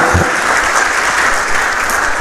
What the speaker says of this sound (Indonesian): boleh beri tepuk tangan untuk Tuhan yang keras